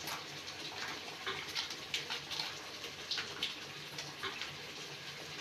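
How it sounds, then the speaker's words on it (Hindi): Water pours into a pan of shahi paneer curry while it cooks, making a soft, faint splashing and gushing that swells and fades unevenly. No one speaks over it. "थोड़ा सा पानी डाल लेती हूँ"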